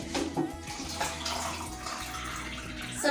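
Lukewarm water pours steadily into a cup for chapati dough, a close, continuous splashing trickle with no talk over it.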